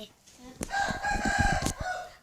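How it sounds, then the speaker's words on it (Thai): A rooster crows loudly once, close by, in a forest clearing, with a brief cluck before the long call. "ไก่นี่ก็ขันดีเนาะ ขันดีขันดังมาก"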